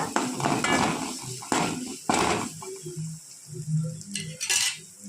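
Rasam paste masala sautéed in a pan after mustard seeds have popped, heard as loud close scraping and clanking of a spoon against metal, with bursts of sizzling and a few brief knocks.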